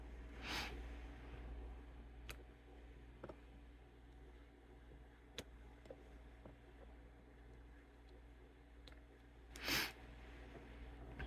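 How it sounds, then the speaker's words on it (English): Two or three brief nasal sniffs from a runny nose stand out against a quiet room hum, one near the start and a stronger one toward the end, with small ticks between. "I'm sorry I'm sniffing. I don't know why my nose is running."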